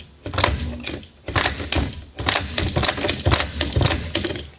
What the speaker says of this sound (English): you can actually hear the solenoid itself cycle as I go through the shifts because it's helping the shifter